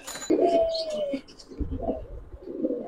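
Giribaz pigeons, a green-necked silver variety, coo up close in a few soft, throaty phrases, with some faint background noise.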